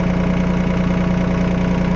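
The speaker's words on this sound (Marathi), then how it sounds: "1200 RPM वरती आपला ट्रॅक्टर या ठिकाणी सुरू आहे" Swaraj Target 630 tractor engine idling steadily at 1200 RPM while driving a PTO generator, a loud, close, continuous low hum with a strong even drone and no talk.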